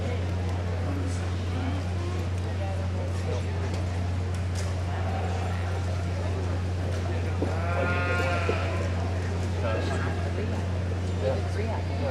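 Hampshire sheep at a livestock show, one clear bleat rising midway over a steady low hum of the show hall, with a judge talking throughout.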